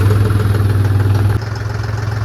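A Deutz-Fahr tractor with a cultivator attached runs nearby, its diesel engine chugging in a steady, loud low throb that drops slightly in level partway through and keeps idling rhythmically.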